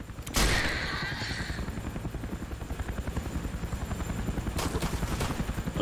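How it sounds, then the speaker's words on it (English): Helicopter rotor from the video game Teddy Chapter 3 thumping in a steady rapid beat as it passes overhead, opened by a sharp bang and continuing loud and close throughout. "Oh, the helicopter's back again."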